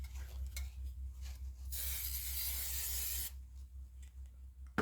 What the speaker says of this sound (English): So go ahead and spray the smooth side.